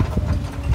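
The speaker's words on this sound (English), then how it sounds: "Oh, there's a horse up there." Horse hooves clip-clop on a road in the Thai countryside, a quick series of dull thuds heard from inside a moving car over low engine rumble.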